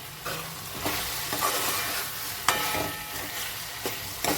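Chicken curry with onion and tomato stirred in a pan, a spoon scraping and clacking in steady strokes over a soft, continuous sizzle, close and fairly quiet with no talking.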